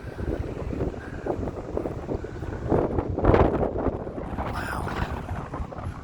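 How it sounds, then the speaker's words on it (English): Gusty wind on the seaside promenade at Blackpool roars steadily across a close microphone, swelling into a stronger buffet midway, while a voice briefly exclaims. "Just keep getting a gust."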